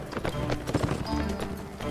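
Galloping horse hooves from the Mount & Blade Warband video game, a fast continuous clip-clop beating close and loud across the short span, with a speaking voice alongside.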